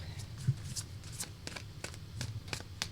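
Playing cards are shuffled for a tarot-style reading, a run of quick crisp riffling and flicking bursts at close range over a low steady background hum.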